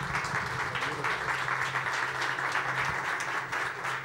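A crowd applauds strongly as an honoured assembly member is called forward at a panel event, dense sustained clapping filling the room with steady intensity and a low hum beneath.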